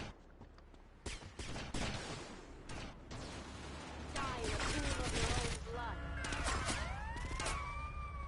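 Sniper gunfire and shooting in GTA Vice City Definitive Edition, with sharp repeated shots cutting through a busy game scene while police sirens wail and rise over the din.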